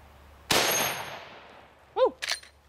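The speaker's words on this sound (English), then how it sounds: "This is a faster bullet, 325 grains. Looks like a little missile out of this 4570." A single sharp, loud shot from a 45-70 rifle firing a 325 grain bullet cracks close by and rolls off in a long echoing tail, followed later by a couple of brief chirping sounds.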